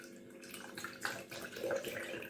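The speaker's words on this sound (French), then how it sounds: "un quart de litre de lait que vous versez dans votre pâte" A quarter litre of milk is poured into batter, giving a soft, close, continuous liquid trickle and splash with no talking.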